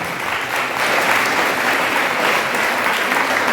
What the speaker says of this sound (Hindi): उसकी एवरेज में तालियां बहुत ही कम हैं